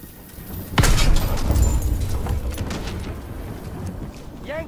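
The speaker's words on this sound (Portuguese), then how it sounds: "Cuidado, explosão!" A loud, booming explosion in Call of Duty: WWII erupts suddenly and rumbles on with crackling debris, while faint voices and game effects continue underneath.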